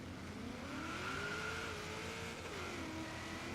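A 1969 drag-built Camaro launches on a slightly wet surface in Forza Horizon 3, its engine holding a steady, loud, rising drone that climbs through the gears over about three and a half seconds, with no talk over it.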